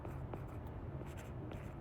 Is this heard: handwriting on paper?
yes